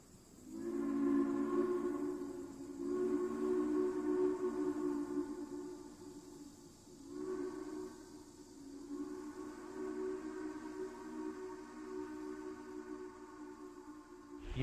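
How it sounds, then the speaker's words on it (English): A steam locomotive whistle in Oklahoma sounds long and steady, its chord sustained over several seconds, briefly dipping and resuming in repeated blasts at moderate distance. "You've just got to hear a steam engine and hear that whistle."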